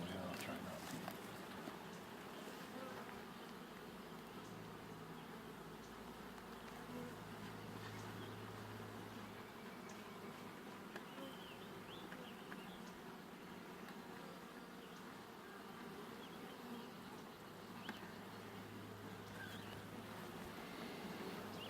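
Bees buzzing around a beehive on a ranch, a steady dense drone of many insects close by, continuing throughout under faint voices of people talking.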